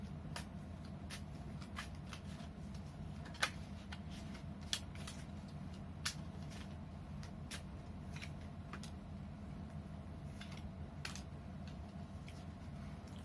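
A deck of tarot cards being shuffled, soft riffling and papery flicks with sharp card snaps at irregular intervals over a low steady room hum, fairly quiet and close, with no talk.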